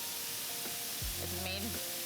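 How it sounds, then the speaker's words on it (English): Oil sizzling and spattering in a low-sided sauté pan during a braised beef cook, a steady soft hiss through the whole stretch, with a tonal hum and brief rising whine partway through. "the oil's just flying out of this pan is just because the edges of the pan are not so high"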